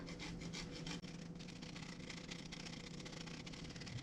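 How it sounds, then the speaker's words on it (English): Parmesan cheese grated over focaccia, a continuous close scraping rasp at a steady rhythm with one brief break, no talk. "We're going to finally grate some Parmesan cheese over the top."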